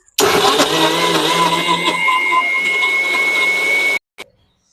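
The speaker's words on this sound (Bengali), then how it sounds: "এবার আমি এটা ভালো করে বেটে নেব চলো এটা আমি ভালো করে বেটে নিই" A blender grinds curd with khoya kheer for a summer lassi, a loud, steady whirring motor that starts abruptly, runs for about four seconds, then cuts off, followed by a short clunk.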